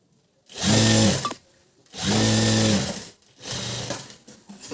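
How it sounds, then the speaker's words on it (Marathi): Sewing machine running a cover stitch along a blouse, three loud close bursts of rapid mechanical whirring separated by short pauses, alone without talk. "इथं आपण ही कवर शिलाई द्यायची आहे या प्रकारे"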